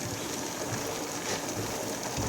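Steady, dense bubbling and hissing of water at a rolling boil, continuous and close, with no voices.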